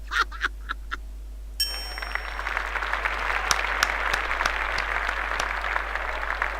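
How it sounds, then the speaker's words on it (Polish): Applause in a video game (Torin's Passage): steady clapping from a small crowd, preceded by a few bright chiming tones and layered over a constant low hum. "Nie wiem dlaczego klaszczemy, ale dobra."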